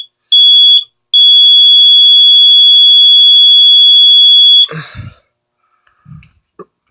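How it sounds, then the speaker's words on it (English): A loud, piercing carbon monoxide alarm beep sounds once briefly, then holds as one long continuous tone before cutting off, followed by faint rustling and clicks. "It'll be replaced with a new carbon monoxide alarm."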